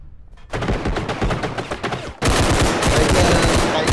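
Heavy gunfire erupts in the BODYCAM shooter game, a rapid burst of automatic shots followed by a louder, denser stream of sustained fire, close and intense.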